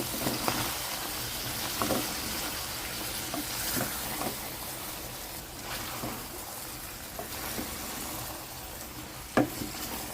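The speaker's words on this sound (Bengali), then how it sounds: "আলু দিয়ে সুন্দরভাবে নেড়ে চেড়ে নেব।" Potatoes are stirred into a simmering beef tripe curry, with soft scraping and clinking from the spoon at intervals over a low, steady bubbling sizzle and one sharper knock near the end.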